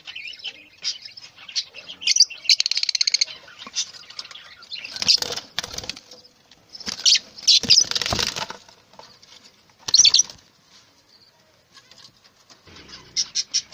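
Pet lovebirds in a breeding cage give repeated high chirps and tweets in bursts, with some wing flutters and scratchy movement, fairly close and without talking.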